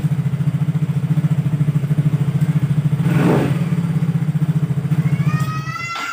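Yamaha Mio GT scooter engine running steadily at a stable idle, a close, continuous low pulsing hum throughout, with a brief rise in noise midway and a faint high whine near the end.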